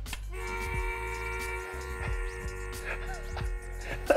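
A kettle of liquid nitrogen set on ice whistles with a steady multi-toned, train-like whine over rhythmic bubbling and popping pulses, sounding close and fairly clear.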